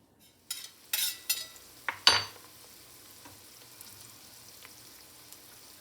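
Chopped vegetables drop into a hot pot with several quick bursts of sizzling, the loudest near the middle, then settle into a soft steady fry with a few faint clinks. No talking.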